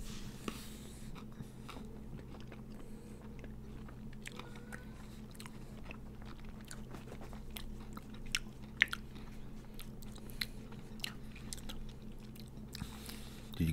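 Crunchy chewing and biting of a Little Debbie ice cream treat, close to the mic, with irregular crisp bites and mouth sounds over a steady low hum and no talking.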